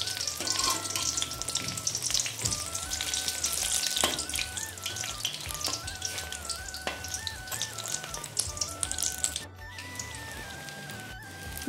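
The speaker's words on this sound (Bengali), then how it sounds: "এবারে এর মধ্যে ডিম সেদ্ধগুলো মাখিয়ে নিয়ে আমি তেলে ভেজে নেব।" Batter-coated boiled eggs frying in hot oil for egg kebab, a steady crackling sizzle with scattered spattering pops and occasional utensil taps, fairly soft and without talk.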